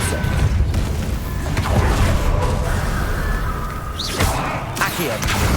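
Depulso spell cast in Hogwarts Legacy: a loud magical whoosh and booming impact with creaks and thuds over low rumbling game ambience, with a couple of sharp swishes near the end.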